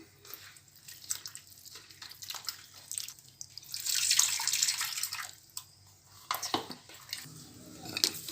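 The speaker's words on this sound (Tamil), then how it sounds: "நம்ம புளியை கரைச்சி நம்ம அதில் ஊற்றிடலாம்" Tamarind water splashes and trickles into a pan of village-style fish curry in uneven bursts, with drips and light metallic clatter, close by and fairly quiet.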